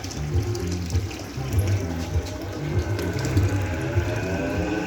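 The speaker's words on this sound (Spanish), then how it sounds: "me está sacando el agua porque teníamos agua." Samsung WF106U4SAWK inverter washing machine pumping out water during a spin test, a steady close rushing and gurgling flow over a low pump hum, continuous with no talk.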